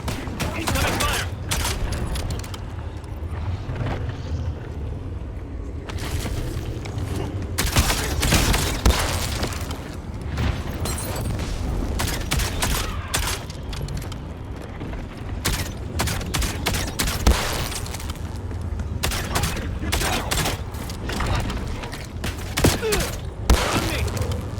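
Sustained gunfire in the Call of Duty Black Ops 7 video game: dense, loud bursts of automatic fire and booms roll on almost continuously, with in-game voice callouts mixed among the shots.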